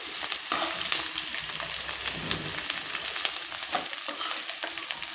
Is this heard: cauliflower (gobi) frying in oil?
yes